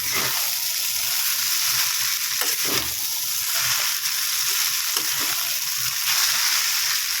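Constant close sizzling of Hakka noodles frying in a pan, with a few soft stirring scrapes and no talking.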